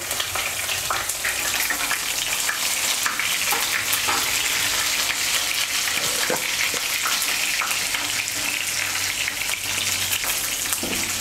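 Eggplant fries steadily in hot oil in a pan with salt and turmeric, a loud, continuous close sizzle with occasional stirring scrapes and no voices.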